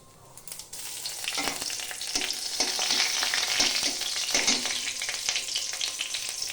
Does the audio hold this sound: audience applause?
no